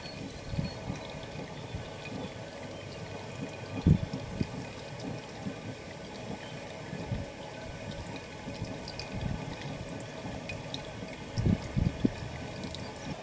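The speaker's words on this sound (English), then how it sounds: "This is still draining really slowly," Stew liquid drains slowly from a pot for a perpetual stew, giving a soft, steady trickle with scattered louder drips and splashes throughout, close and fairly quiet, with no talking.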